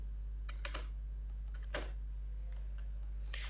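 A handful of computer keyboard key presses while working in 3D lighting software: crisp, quiet clicks spaced unevenly over a steady low electrical hum.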